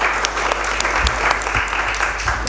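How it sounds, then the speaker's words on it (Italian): A seminar audience claps steadily and densely for a couple of seconds, a close, continuous wash of many hands with no voices rising above it. "Applauso a te."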